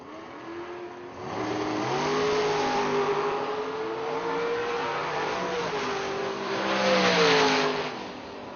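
A Mustang and a Trans Am drag race cars launch and accelerate hard at a drag strip, loud rising engine roars that climb steadily through the gears and swell again near the end.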